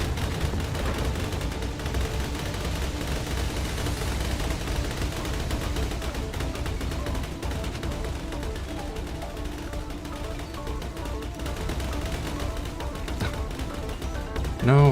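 Gunfire aimed at the player in the robot vehicle combat video game Procelio, a steady rattle of shots and clatter running throughout at moderate loudness, with no clear talk.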